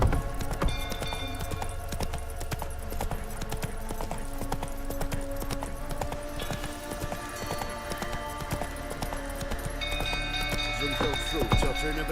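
In The Witcher 3, the horse Roach gallops with rapid, continuous clip-clop hoofbeats under game music and ambience, while voices speak over it.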